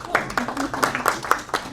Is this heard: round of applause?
yes